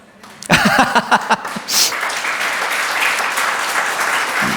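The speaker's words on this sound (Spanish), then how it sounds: "gracias por el aplauso" A congregation at a church service breaks into applause, a few sharp claps at first swelling into sustained crowd clapping that carries on loudly to the end.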